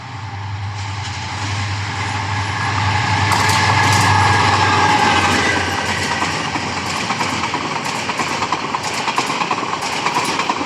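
A direct Chittagong-to-Dhaka passenger train rolls past close by at Methikanda railway station, loud rumbling engine and rhythmic wheel clatter building to a peak, then steady clicking of cars continuing.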